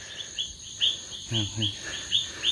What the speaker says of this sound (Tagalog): may nakikinig kayo mga huni ng ibon